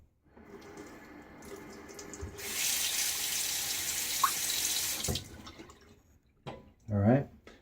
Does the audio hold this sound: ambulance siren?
no